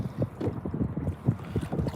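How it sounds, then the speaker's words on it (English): Gusty wind buffets a microphone outdoors on a lake, producing low, uneven rumbling bursts that rise and fall continuously, close and fairly loud with no other clear sounds. "Sorry, it's windy out here."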